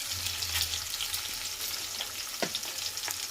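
Chana dal, cumin, mustard seeds and green chillies frying in hot oil, a steady close sizzle with scattered crackles and a few stirring scrapes.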